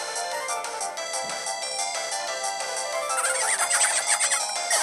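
A dense, bright electronic defeat jingle from Pokémon Pearl with layered tones and chiming flourishes, steady and fairly loud, building slightly toward the end.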